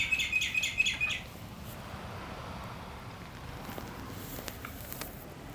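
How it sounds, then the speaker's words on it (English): A small bird sings close by in a short burst of repeated high chirps lasting about a second, then the sound gives way to quiet outdoor ambience with faint rustling. "There is a bird singing right at my ear."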